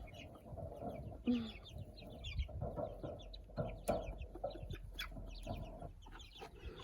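A brooding hen that is still laying clucks among chicks, soft repeated clucks and short calls at close range over a quiet farmyard background, with no talking.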